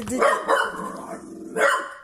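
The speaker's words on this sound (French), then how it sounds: "T'arrêtes d'aboyer les 3h03 du matin." A dog barks loudly at close range in the middle of the night, a few sharp barks spaced across the clip with a short gap before a final burst.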